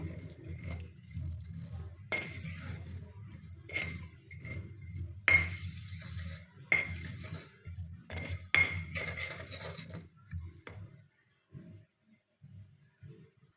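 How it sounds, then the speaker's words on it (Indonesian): A spoon stirs ground spice paste with a little water in a bowl for fried tilapia, giving repeated light clinks and scraping against the dish in an uneven rhythm, close and quiet, fading out at the end. "Aduk sampai merata."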